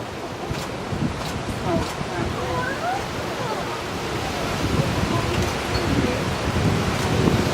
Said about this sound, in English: A little windy, huh?